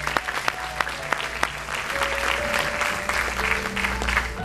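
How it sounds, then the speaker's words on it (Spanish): Applause from a church congregation after a pastor's sermon praise, a steady wash of many hands clapping with a few sharper nearby claps, alone and fairly loud, with sustained organ or keyboard tones underneath. "Ahí le doy un aplauso a mi hermano José, el siervo de Dios."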